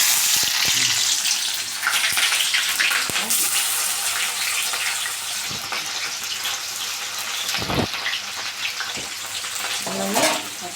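Chopped onion frying in hot white oil in a wok, a steady broad sizzle running throughout with occasional clinks and stirring knocks, close and fairly loud, no talking.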